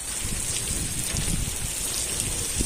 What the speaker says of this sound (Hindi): बारिश तेज सी गए है हाँ?